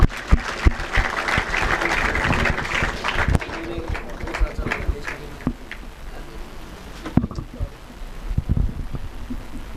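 At a school Independence Day celebration, an audience applauds with scattered, uneven clapping of moderate loudness, busier in the first seconds and thinning later, with voices talking faintly underneath.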